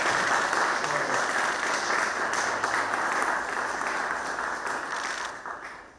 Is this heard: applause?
yes